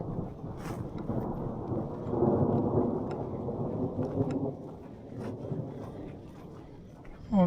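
Thunder rumbles long and deep through a thunderstorm on a hiking route between Adada and Sütçüler, with steady rain and wind buffeting the microphone throughout; loud, rolling and close, building in the middle and easing off.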